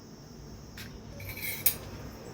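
A spoon mixes food colouring into homemade watermelon tutti frutti, with soft, faint scraping that ends in a single sharp clink against the bowl.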